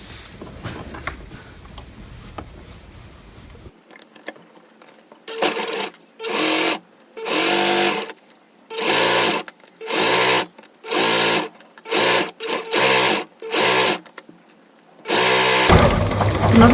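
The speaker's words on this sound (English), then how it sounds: "and then I will sew these together" Sewing machine stitching shiny fabric pieces together for a cosplay bodice, running in about nine short rhythmic bursts separated by brief pauses, close and loud.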